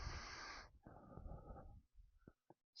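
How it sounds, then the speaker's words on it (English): Deep breathing during a step workout: a long, breathy exhale followed by a slower, lower breath with slight wheezy texture, close and fairly quiet, ending in short puffs. "Deep breathing."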